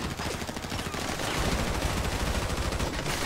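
Rapid gunfire in GTA Online during a shootout at sea, dense continuous bursts of shots that stay loud and close throughout.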